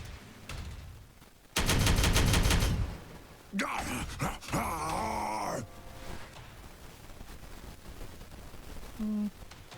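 Orks open fire in the turn-based strategy game Warhammer 40K Regicide. A dense, loud burst of rapid gunfire lasts about a second, followed by further shots, grunts and clattering effects. Someone talks faintly in between.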